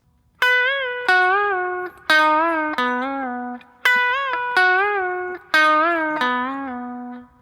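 An electric guitar lead plays harmonized notes from a song in short phrases, several bent upward in pitch, clean and sustained with brief gaps between.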